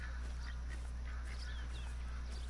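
Game ducks in Call of the Wild's New England area quack in short repeated bursts, moderately distant and fairly soft, over a constant low hum.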